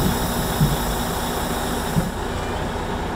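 A semi-truck tractor engine rumbles low and steady nearby in first gear, with a couple of small bumps in the sound as it begins pulling away from an uncoupled trailer.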